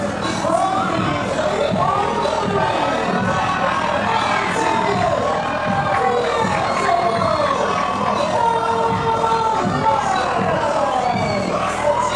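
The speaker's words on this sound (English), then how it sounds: "The crowd here in Greer at the Spinning Jetty so loud, Dave Foster could not get the ring introductions out" Loud wrestling crowd at an event in Greer roaring and cheering continuously, a thick wall of shouting voices that stays dense and constant throughout with no clear pauses.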